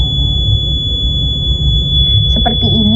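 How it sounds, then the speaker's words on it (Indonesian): Buzzer of a flood warning system for flood-prone areas sounds as a loud, steady high-pitched tone held throughout, close by, with brief voice sounds near the end. "air sudah meluap, buzzer ini akan menyala"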